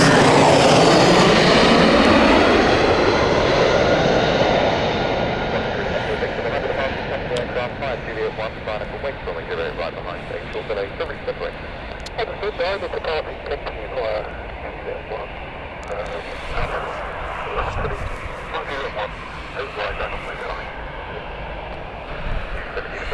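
Jet airliners, including Norse and EasyJet aircraft, taxiing at Gatwick Airport, a loud rushing engine roar that sweeps in and slowly fades to a steady rumble and whine lasting the whole stretch.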